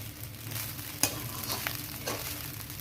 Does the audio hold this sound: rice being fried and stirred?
yes